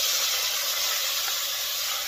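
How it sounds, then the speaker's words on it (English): Steak sizzles in hot oil on an electric stove, giving a loud, steady, dense hiss that does not let up, with no talk over it. "you want the meat to hit this thing hot. You really want it to be, let it go sizzle."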